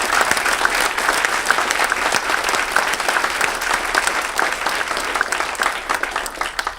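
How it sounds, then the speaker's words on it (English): A crowd gives sustained applause, a dense, even clatter of many hands clapping, loud and continuous throughout. "I think we'd like to give them a round of applause now"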